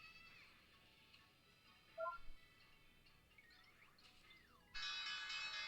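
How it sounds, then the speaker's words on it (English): A stock market opening bell rings out loud and sustained near the end, after a quiet stretch with a brief chime and faint electronic tones. "There's the bell."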